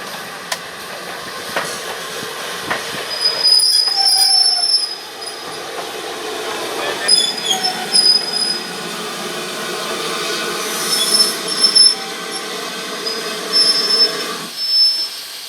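A steam locomotive on a heritage railway in the Cotswolds backs slowly onto its waiting train, wheels squealing in repeated high metallic shrieks over a steady rumble of rolling stock, close and loud with no talk.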